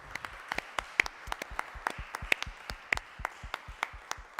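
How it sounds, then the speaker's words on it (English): Sparse, distinct claps at a panel discussion, a small audience applauding with separate, irregular hand strikes that sound fairly quiet and a little distant. "I would ask you to give them a big round of applause today"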